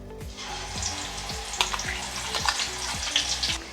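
Onion paste frying in a pan for chicken dum biryani, a steady close hiss and sizzle with regular scraping stirs of a spatula against the pan, without talk.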